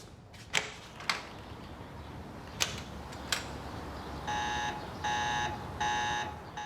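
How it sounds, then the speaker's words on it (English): Window alarm from the Chernobyl TV series sounding as three evenly spaced electronic beeping bursts, loud and steady, following a few sharp knocks and clatters against a low background hum. "the window alarm. Better close it fast"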